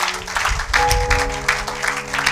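A church congregation applauds in a steady, dense wash of clapping that swells around the middle, with a sustained organ or keyboard tone running underneath.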